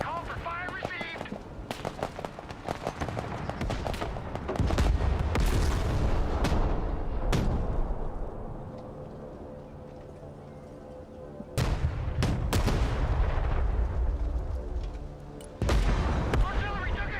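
Artillery fire in the Broken Arrow game: repeated heavy booms and sharp gunfire bursts, a loud cluster early, sustained rumbling blasts in the middle and more impacts later, over a continuous battle din.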